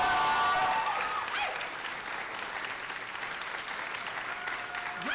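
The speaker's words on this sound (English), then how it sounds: "T6s, you better clap loud for her" Audience at a university white coat ceremony applauding a keynote speaker, a sustained wash of clapping across the whole clip, strongest at the start and steady throughout, with faint crowd voices underneath.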